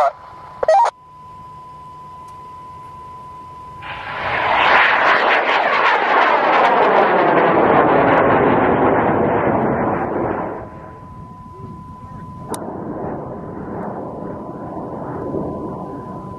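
Two-stage model rocket launch with an N1200 motor in the booster and an M650 in the sustainer: a sudden loud roaring whoosh swells and holds for several seconds, then fades into distant rumbling, with a steady tone and sharp click beforehand.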